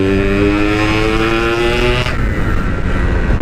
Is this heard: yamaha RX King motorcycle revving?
yes